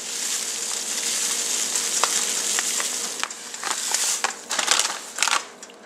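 Crawfish mix added to chicken in a pan while making fried chicken, with a steady close sizzle and frying crackle and scattered sharp ticks and pops, louder toward the end, with no talk.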